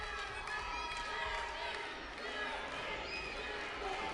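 Wrestling crowd at a capacity-filled independent wrestling show, a dense roar of chanting and cheering voices with a commentator talking over it.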